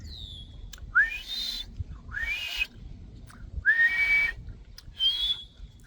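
A person tries to whistle, producing four or five short, breathy rising and falling whistle notes separated by gaps, close and fairly loud over a low rumbling background.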